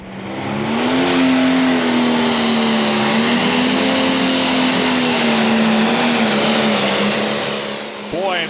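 A pro stock pulling tractor engine roars at a tractor pull, holding a loud sustained high-revving drone for several seconds before the pitch sags and it fades, close and alone.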